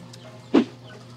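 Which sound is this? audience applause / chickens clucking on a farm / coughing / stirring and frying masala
chickens clucking on a farm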